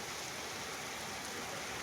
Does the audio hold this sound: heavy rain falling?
yes